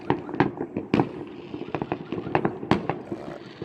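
New Year's Eve fireworks in Russia crackle and pop in a dense, irregular barrage of sharp bangs, some close and loud, others farther off, over a steady rumbling backdrop.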